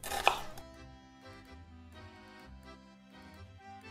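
A knife slices an onion into very thin half-rings about a millimetre thick, with one sharp cut near the start followed by softer, quieter strokes over a faint background hum.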